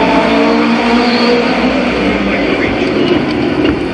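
Midget race cars roar around the Columbus Motor Speedway oval during an eight-lap event, a loud, dense, continuous engine drone close by, with no clear breaks or individual passes standing out.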